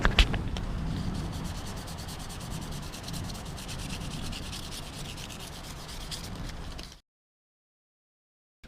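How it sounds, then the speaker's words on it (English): Close, steady rubbing of sandpaper lightly sanding a cracked wood grain steering wheel of a Lexus LS430, back and forth in quick strokes for about seven seconds, then the sound stops abruptly into silence. "So we lightly sanded the steering wheel."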